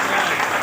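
An audience at an RCM seminar bursts into dense, loud applause, a brief wash of many hands clapping at once.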